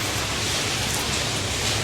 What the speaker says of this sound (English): it is tipping it down with rain